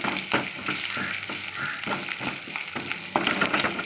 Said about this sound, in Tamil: வெங்காயமும் நல்லா செவந்து வந்துட்டு அடுத்து கருவேப்பிலை போட்டு